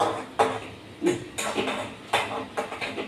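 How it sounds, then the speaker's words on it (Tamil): Cashew nuts roasting in a metal pan for laddu, stirred with a utensil that scrapes and clinks in short, irregular bursts, close up and without talk. "முந்திரி பருப்பு வறுத்துட்டுருக்கேன்"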